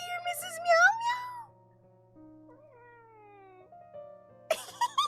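Cat meowing, a few rising and falling meows at moderate volume with quiet gaps between them.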